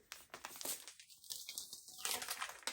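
A plastic shopping bag from the Silpo supermarket crinkles faintly in close, brief rustling bursts as it is handled, with no talk over it.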